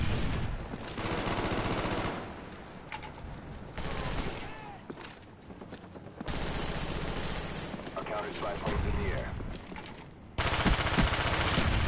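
Automatic gunfire in the video game Black Ops 2 rattles in loud repeated bursts separated by brief gaps, with a voice talking at times.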